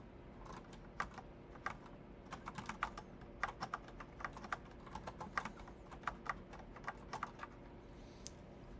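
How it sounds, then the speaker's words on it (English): Steady, quick typing on an ordinary computer keyboard, with dense irregular keystroke clicks running close and clear the whole way through over a low room hum, and no talking. "I was typing on a normal keyboard for Olive today."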